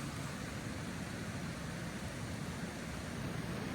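A continuous, heavy roar of a flooded creek rushing without pause, loud and close, with no talking.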